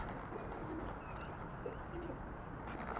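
Soft, low cooing of pigeons comes through a steady background hiss, faint and somewhat distant, repeating in gentle throaty phrases.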